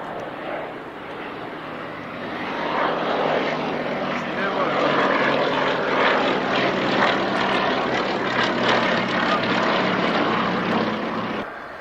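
Three aircraft fly in formation over the Duxford Flying Legends airshow, their engine roar rising from a distance to a loud sustained drone as they pass overhead, then fading slightly.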